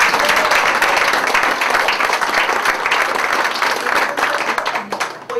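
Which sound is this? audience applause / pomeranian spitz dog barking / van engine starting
audience applause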